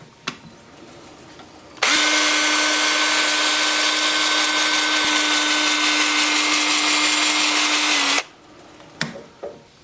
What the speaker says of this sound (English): I'm going to start the sanding at 120 on my 2-inch sanding disc.